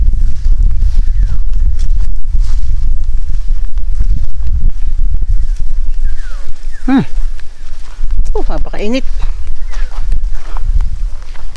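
Hooves clip-clop at a steady walking pace amid outdoor bustle, with people talking and a short whinny-like call breaking in partway through.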